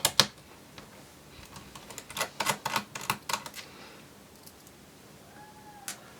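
Screws come out of the base of a Dell Inspiron 15 3501 laptop, giving a close run of quick light clicks and ticks in irregular bursts, then a long quiet stretch with one last tap.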